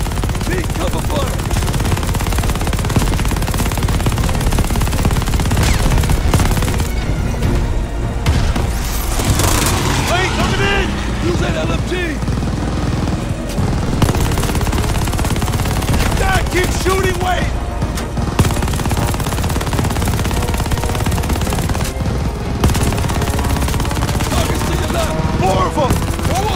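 Sustained machine-gun fire rattles through a loud battle scene in Call of Duty: Vanguard, with dense bursts, booms and constant combat noise layered under shouting voices for the whole stretch.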